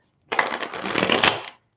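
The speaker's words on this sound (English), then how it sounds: "I gotta shuffle these cards the other way so I'm not having them come up all weirded out." Tarot cards being shuffled by hand, a dense papery riffling and flicking that runs steadily for just over a second, close and fairly loud with no talking.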